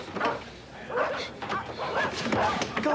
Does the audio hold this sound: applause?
no